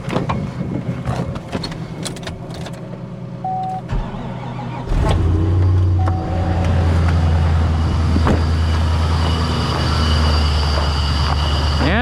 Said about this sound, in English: I know this truck will start.